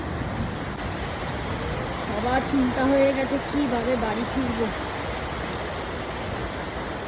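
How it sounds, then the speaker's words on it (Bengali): Rain pours steadily during a sudden storm at a picnic, a dense hiss of falling water with a person talking over it. "দেখুন কি অবস্থা, বৃষ্টি শুরু হয়ে গেছে।"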